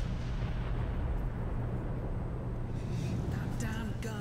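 A large artillery gun in Warhammer 40K Space Marine fires, producing a sustained heavy rumbling boom that fills the low end, loud and continuous, with faint voices and bleeps near the end.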